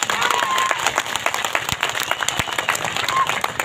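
A gathered crowd at a community talk claps with both hands raised, a loud, dense and lively round of clapping with sharper individual claps standing out and a murmur of voices underneath.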